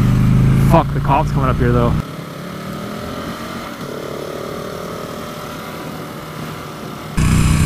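Motorcycles passing on a canyon road, a steady engine drone heard mostly in a lull between bursts of talk, with wind rumble from a moving rider and voices at the start.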